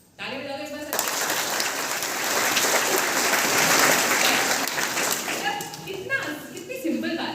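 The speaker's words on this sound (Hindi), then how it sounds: "ताली बजा दो एक बार।" Applause from an audience of schoolchildren at a motivational event held by a district collector, building into a sustained, dense clapping that swells in the middle and trails off, with some speech near the end.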